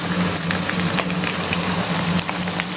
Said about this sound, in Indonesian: Ini kita goreng, tunggu sampai kering gitu ya.